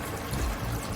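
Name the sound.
pouring water into mutton masala for nihari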